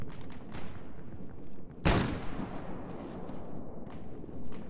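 An enemy fires at the player in the video game Stalker Gamma: one loud, sharp crack stands out mid-clip over a busy background of scattered, softer distant shots.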